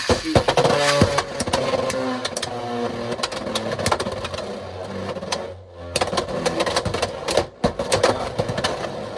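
Beyblade X spinning tops clashing in a plastic stadium, a rapid chatter of sharp clicks and impacts with whirring spin, loud and close, briefly dropping out before more collisions.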